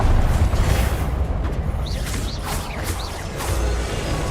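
Expelliarmus disarming spell effects from Hogwarts Legacy: a run of short whooshing, chiming magical bursts over a steady low rumble, with creaking, mechanical texture in the game's background.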